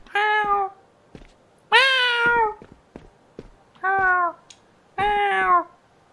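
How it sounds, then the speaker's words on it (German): A cat in a video game meows four times, loud and close, each drawn-out call separated by short pauses with faint clicks between. "Ich will einmal ganz nah an die Katze ran."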